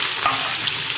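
Chopped onions hit a hot pan of oil where mustard seeds were just tempered, giving a steady, close sizzle with a soft frying hiss and no voices.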